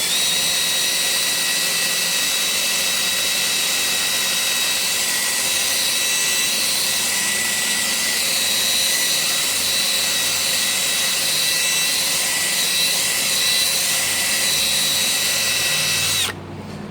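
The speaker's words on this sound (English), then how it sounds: "What I like to use is one of these wire wheels inside here, just to give it a little cleaning, to get any of that old corrosion" A powered wire wheel grinds corrosion from inside a Rolls-Royce brake accumulator sphere, a loud, steady high-pitched whir with metallic scraping that runs continuously before cutting off abruptly near the end.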